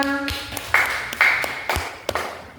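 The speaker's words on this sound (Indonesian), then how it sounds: "Tepuk tangan untuk Naila." A small classroom group claps in a few loose, uneven bursts, fairly quiet and close, after a brief chime-like tone at the start.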